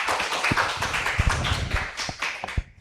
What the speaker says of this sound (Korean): 우리 박수로 맞이해 주시면 감사하겠습니다